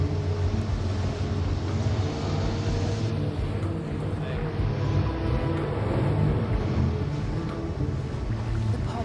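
Rescue boats revving their engines on the water to drive stranded whales back out to sea, a low steady motor rumble and drone running throughout at moderate level.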